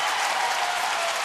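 A baseball stadium crowd roars and claps in a dense, sustained wash of cheering at a Milwaukee at Houston game, with no voices standing out.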